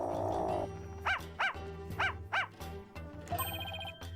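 Shadow the dog barks four times in a steady, stylized rhythm in the video game Phoenix Wright Spirit of Justice, over background game music, ending in a chiming jingle.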